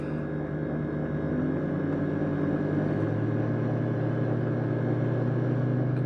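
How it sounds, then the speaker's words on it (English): Nissan 350Z / Infiniti G35 engine running with its exhaust: a steady, loud, low droning rumble that holds throughout with little change in pitch. "we're gonna rev it up."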